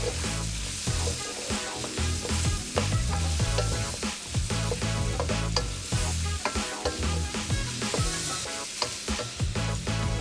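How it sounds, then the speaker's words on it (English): Vegetables for a beef and ginger stir fry sizzle and crackle loudly in a hot pan, with steady scraping and tossing strokes continuing throughout. "all the vegetables we're gonna cook them until they're slightly brown and caramelized"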